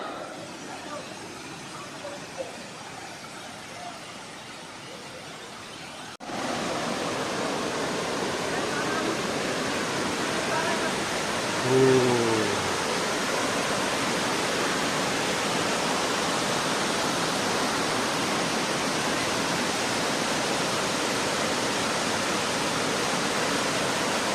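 The Rupshi waterfall pours in a dense, steady roar of rushing water that swells louder after a few seconds and holds unbroken, with a brief voice rising faintly over it midway.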